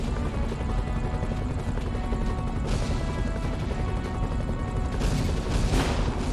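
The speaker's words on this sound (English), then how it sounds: "Where's this helicopter?" A steady, dense mechanical roar of a helicopter's rotor and engine in the PC video game Iron Man, loud and continuous, with scattered crashes and bangs mixed in.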